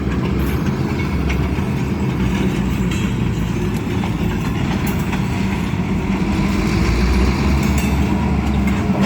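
An RJ Corman Railroad Company train shoves cars during track switching, a loud, continuous rumble of rolling wagons and engine with faint clatter throughout.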